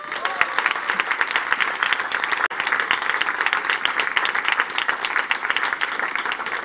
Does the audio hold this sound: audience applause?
yes